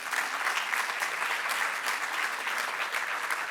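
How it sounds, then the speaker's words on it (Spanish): An audience at a religion seminar panel claps in steady, even applause that holds at a constant moderate level throughout, with no speech over it. "Aplausos, por favor."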